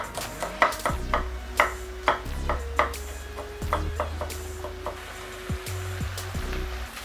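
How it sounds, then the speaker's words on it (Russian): Garlic being chopped with a knife on a board, a series of sharp, irregular close-up knocks repeating several times over a few seconds, with no talking. "Ну а сейчас измельчаем чесночок."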